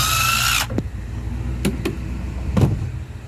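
Power drill whining loudly as it backs a screw out of a joist hanger on a platform bed frame, then cutting off after about half a second and leaving scattered knocks and handling clatter.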